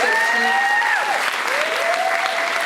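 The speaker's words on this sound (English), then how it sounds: "Go on, a round of applause for Roxanna." A crowd at a film Q&A applauds in an even burst of clapping, with some whistling tones running over it.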